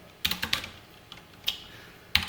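Keys on a computer keyboard click in a sparse, uneven run of about seven or eight light, close taps with short pauses between them, quiet and without speech.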